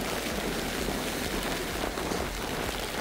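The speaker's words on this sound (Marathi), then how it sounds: "इकडे आता खूप पाऊस आलेला आहे" Heavy rain pours steadily beside the traditional Chinese fishing nets of bamboo in Kochi, Kerala, a dense continuous hiss of drops on surfaces with no voices over it.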